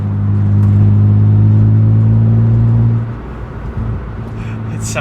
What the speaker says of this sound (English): The exhaust sounds awesome.